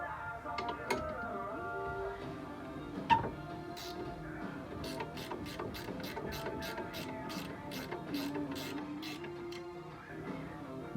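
A ratchet with a 3/4 inch socket works on strut bolts during a strut and hub install on a 2006 Subaru WRX, giving a run of quick, close clicks after a metallic clank.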